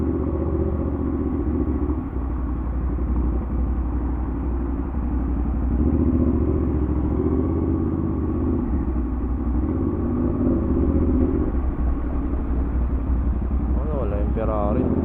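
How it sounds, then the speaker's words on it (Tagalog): Bumper to bumper road traffic on C5, a low continuous rumble of idling and creeping car engines heard from inside a vehicle, with people talking over it. "Ay, nang grabe traffic talaga dito."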